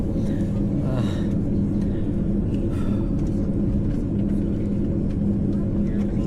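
Steady, dense engine rumble fills a passenger airplane cabin during a three-hour flight, a continuous low roar with faint voices drifting under it.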